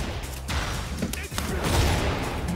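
Gunfire in the video game Tekken 8 bursts in a rapid rattling volley over busy game sound, fairly close and moderately loud, with some speech underneath.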